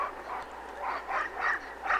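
A dog gives soft, high whimpering whines and yips in short repeated bursts, fairly close and faint against a quiet background.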